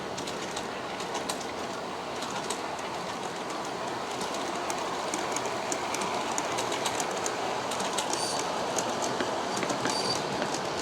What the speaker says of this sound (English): And here it's going over the viaduct again.